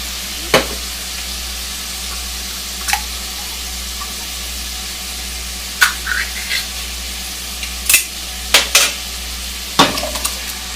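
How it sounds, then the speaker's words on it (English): Canned tomato sauce is poured over browned meat for baked ziti and stirred, with a soft steady sizzle broken by sharp scattered scrapes and clinks of the spoon against the pan. "Since my meat is browned, I'm going to add a can of tomato sauce."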